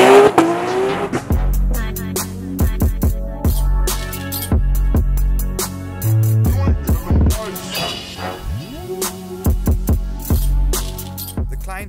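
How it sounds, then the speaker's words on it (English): A Nissan Skyline GT-R R34 with a titanium exhaust and Tomei fuel rails revs loudly and close, rising and falling through gear changes, with a few sharp tire squeals. "Titanium thrust exhaust gives this car a very distinctive tone."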